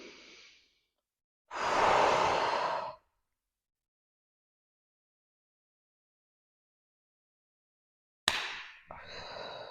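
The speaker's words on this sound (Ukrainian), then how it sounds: "Видихнули. Глибокий вдих." Deep, close breaths during postpartum pelvic floor exercises: a soft breath fades out, then one long loud airy exhale, a silent pause, and a sharp intake followed by another breath near the end, with no talking.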